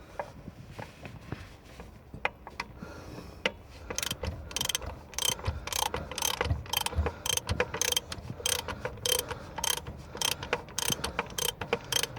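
A 13 mm socket on a ratchet wrench clicks in quick, repeated strokes during an excavator repair, starting sparse and quiet, then growing dense and steady over background noise, with no talk.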